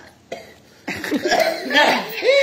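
A couple of sharp coughs break out nearby, followed by a rougher run of coughing mixed with laughter-like sounds.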